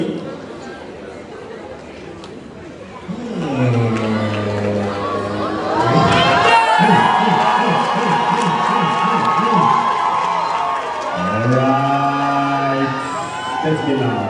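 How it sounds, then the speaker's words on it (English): An audience at a corporate recognition event breaks into cheering and whooping after a lull, the crowd noise swelling loud and sustained while an announcer keeps talking over it. "Please clap your hands for everything."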